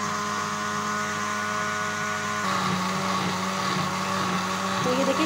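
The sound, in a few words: blender blending green chilli chutney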